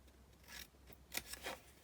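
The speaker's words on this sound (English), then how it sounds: "you want to cut straight down" Scissors snip through paper for an album cover, a few short crisp cuts and rasping slices, close and quiet in a still room with no talking.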